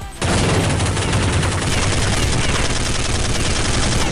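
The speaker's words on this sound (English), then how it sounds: "Machine gun." Continuous machine gun fire from the Counter-Strike video game, a loud, dense, unbroken burst starting abruptly and running for several seconds without pause.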